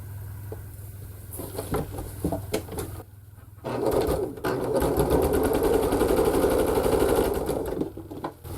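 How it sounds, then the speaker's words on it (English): Quilt blocks are chain pieced on a domestic sewing machine. It runs in short bursts, then settles into a longer steady whir of rapid needle stitching. The machine is close, with light handling noises between the runs. "So now I'm going to sew these top 2 together."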